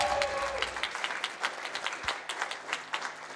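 A large convention audience at a live speedrun event breaks into sustained applause. The loud, dense clapping continues for the whole stretch without a break.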